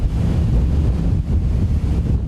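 Strong wind roars steadily at sea aboard an anchovy fishing boat off Gijang, buffeting the microphone with dense, continuous low rumbling and wave wash, loud throughout with no speech.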